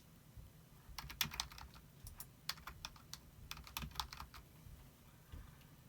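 Someone types on a computer keyboard in quick, uneven bursts of crisp key clicks, close and fairly quiet, with short pauses between runs of keystrokes.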